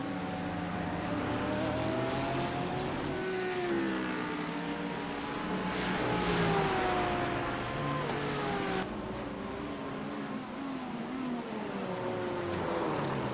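GT3 race cars circling Road America in the iRacing simulator, several engines revving and shifting with rising and falling pitch, continuous and fairly close, layered over each other.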